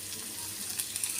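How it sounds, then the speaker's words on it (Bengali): Onions and sandwich filling sizzle softly in a pan while being stirred, a steady faint hiss with a few light scraping clicks near the end. "এটা আমি ভালো করে নেড়ে ছেড়ে মিশিয়ে নিব যেন এই পেঁয়াজগুলো একটু নরম হয়ে যায়।"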